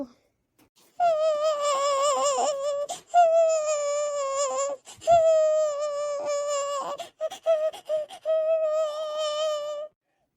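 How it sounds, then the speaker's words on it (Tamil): A baby cries in several drawn-out, wavering wails separated by short breaths, fairly close and alone in an otherwise quiet space. "என்ன குழந்தை அழுற சவுண்டு கேட்குது?"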